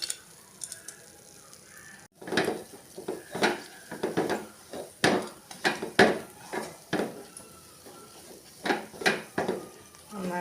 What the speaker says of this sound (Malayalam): നന്നായിട്ടൊന്ന് ഇളക്കിയെടുക്കാം